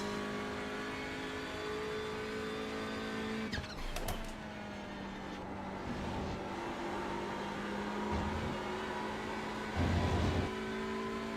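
TCR touring race car at Snetterton circuit, its engine holding a steady droning tone with gear-shift blips and a brief surge of throttle, heard from inside the cockpit.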